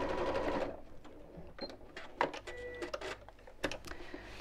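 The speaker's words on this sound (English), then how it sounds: "as I'm sewing around the top, I'm just making sure that I sew just inside the seam that I've just made" Sewing machine stitching around the top seam of an insulated lunch bag, giving a short close whir at first, then stop-start clicks and mechanical ticks at moderate loudness.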